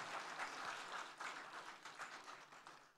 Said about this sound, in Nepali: फेरि एकपटक गडगडार ताली दिन आग्रह गर्छु म माई सेकेन्ड टिचरलाई